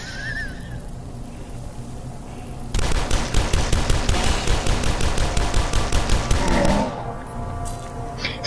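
Rapid gunfire from the video game Dusk: a loud, dense run of automatic shots hammers for about four seconds after a quieter opening, then cuts off into quieter game ambience.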